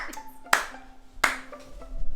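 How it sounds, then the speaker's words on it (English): Hand clapping, two sharp, close claps about three-quarters of a second apart over a faint tonal background. "It's because you clapped."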